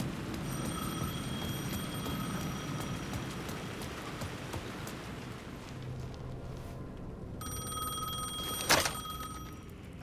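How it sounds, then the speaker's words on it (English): A telephone rings in the video game Alan Wake 2, a bright electronic trill repeating in bursts over a low droning ambience, pausing briefly before resuming with a sharp knock-like hit, no talk. "The phone was ringing again."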